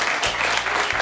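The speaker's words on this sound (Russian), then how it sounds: "Евгений Катайцев, аплодисменты." Audience at a New Year show award ceremony applauds steadily as a winner is called up, a dense, even wash of clapping throughout with no talk over it.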